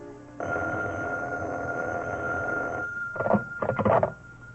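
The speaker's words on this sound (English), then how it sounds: "2 months ago, at 11 in the evening, my telephone rang" An old-time radio drama effect of a telephone bell rings in a sustained electric jangle, followed by two shorter bursts, heard alone without voices.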